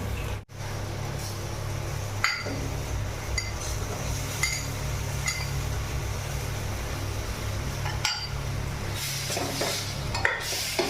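Prawns and a little warm water going into a yogurt gravy in a pan, then stirred: a soft, steady simmering hiss with occasional clinks and scrapes of a utensil against the pot, close and fairly quiet.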